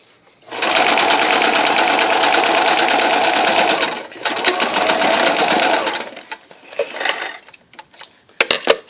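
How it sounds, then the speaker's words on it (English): A sewing machine stitches in the seam of a garment while making a Hong Kong seam, running loud and steady for several seconds, pausing briefly, running again, and then ending with a few scattered mechanical taps. "you're going to stitch right in that seam"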